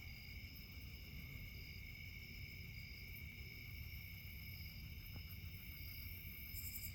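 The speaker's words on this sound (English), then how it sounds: "Bugs. Lots of bugs." Dense, steady chorus of crickets and other insects chirping at night near a bridge, continuous and fairly loud with high-pitched trilling layers throughout and no talking.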